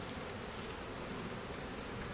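Honey bees buzz in a dense, steady drone throughout an open hive during an outdoor beekeepers' field day inspection, with no talking.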